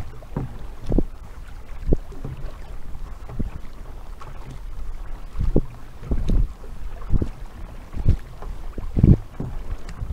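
Kayak paddle strokes on Loch Fyne, a sea loch, come as close, rhythmic splashes and thumps roughly every second, with light wind noise in between.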